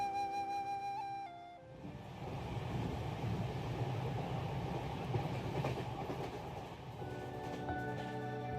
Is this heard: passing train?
yes